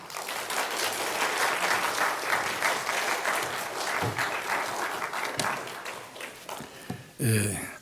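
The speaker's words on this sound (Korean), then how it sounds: "우리 다 같이 박수로 환영하도록 하겠습니다" A church congregation applauds to welcome the pastor, a steady wash of many hands clapping in a large room that holds for several seconds, then thins out before a brief louder burst near the end.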